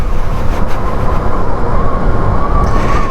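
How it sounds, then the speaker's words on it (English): 2023 Yamaha MT-07 motorcycle riding at speed with a rough, dodgy gear change, a loud constant engine and wind roar with a faint shift knock, no talk. "Yeah, so dodgy gear change."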